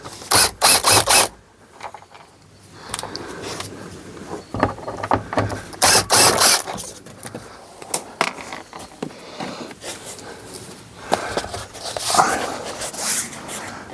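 Phillips sun visor screws being undone with a screwdriver inside a VW Caravelle, close-up ratcheting clicks and scraping mixed with handling knocks and rustles, with bursts of louder rattling throughout.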